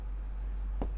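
Pen or chalk writing during a Class 10 maths lesson on linear equations, a single short scratchy stroke near the end over a steady low hum.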